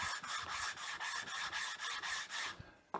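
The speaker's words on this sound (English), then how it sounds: "After the CA cures, I'll hit it with some fine sandpaper" Fine sandpaper rubs back and forth over cured CA glue on a paua abalone strip, a rhythmic series of close, raspy strokes about five per second, then a brief pause and a small knock.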